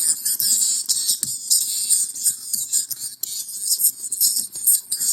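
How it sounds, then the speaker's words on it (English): Harsh, crispy sibilance from a vocal recording, soloed to the high range, hisses in dense bursts that flare and fade with each syllable, loud and close with no full voice beneath. "you soloing out the high frequency range of the audio that sounds bad"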